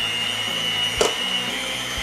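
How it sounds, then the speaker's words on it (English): An electric mixer blends eggs into butter with a steady, close motor whine and hum, broken by one short click partway through. "I'm going to mix the eggs in with the butter before we add in the flour"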